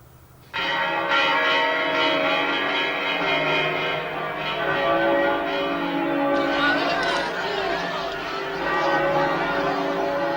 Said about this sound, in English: The church bells began to ring.